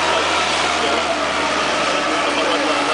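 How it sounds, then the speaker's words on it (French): A JCB 536 telehandler with a 130-horsepower side-mounted engine runs steadily, a loud, continuous engine drone with no breaks, apparently mixed with voices. "Ce JCB a un moteur de 130 chevaux en position latérale"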